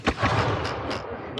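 Close, loud musket volley from militia at a Revolutionary War reenactment of the Battle of Eutaw Springs, a sharp initial crack followed by a rolling, sustained roar of staggered shots with a few trailing pops.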